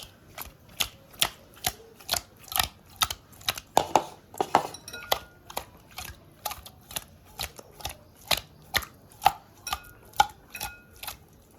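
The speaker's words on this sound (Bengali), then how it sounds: "তো আমি একবারে আলুটাও কেটে নিচ্ছি।" A knife chops potatoes on a cutting board in an even rhythm of about two crisp, close knocks per second, which keeps going throughout in a quiet kitchen.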